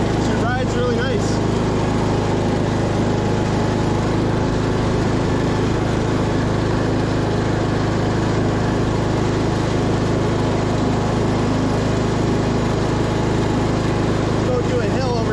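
A 1998 MTD lawn tractor engine runs at a steady, close, droning idle that holds throughout, with someone talking over it.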